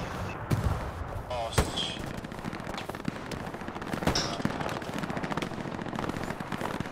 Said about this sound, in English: No, I just heard a bunch of shooting.